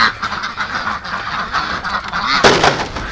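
A large flock of ducks in a pen at a duck rescue honks and quacks continuously, a loud overlapping chorus close by with a sharper burst near the end.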